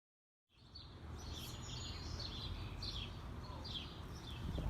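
Birds sing and chirp in short repeated phrases over a steady outdoor rush of background noise, fairly distant and soft, heard from a back porch in Baltimore.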